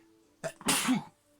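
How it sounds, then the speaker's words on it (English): A single sharp sneeze, preceded by a quick intake of breath, close and loud against a quiet background. "That was a sneeze."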